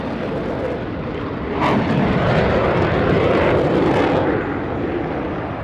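Indian Tejas fighter jet at the Tarang Shakti air exercise, a loud, steady engine roar that swells as the aircraft passes and then eases, alone with no talking.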